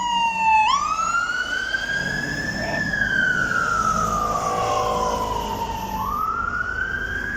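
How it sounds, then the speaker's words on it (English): A fire engine's wailing siren climbs up a hill in Hampstead Heath, a rising and falling tone that stays loud and steady throughout, with road traffic rumbling underneath. "We've got a fire engine."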